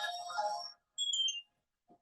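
A mobile phone rings during a talk, a bright electronic ringtone repeating in short melodic bursts at moderate volume, then cutting off to quiet with a faint voice at the end.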